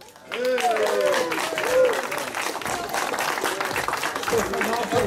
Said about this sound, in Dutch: Een applaus voor Hamza van Crosskaten.